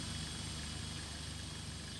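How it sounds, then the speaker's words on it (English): An airplane flies overhead in the video game Titan Chaser, a steady, fairly faint engine drone that holds evenly throughout. "Airplane?"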